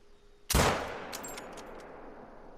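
A single loud rifle shot fired at a whitetail buck in a hunting game, a sharp crack followed by a long fading echo rolling out across open ground, with nothing else heard.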